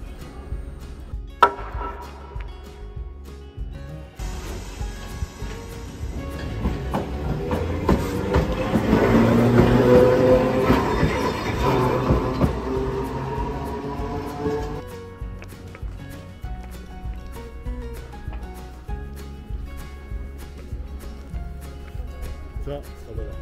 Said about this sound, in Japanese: これに乗ってまいりました。 タルト列車でございます。